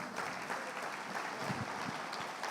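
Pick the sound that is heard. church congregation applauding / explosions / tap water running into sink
church congregation applauding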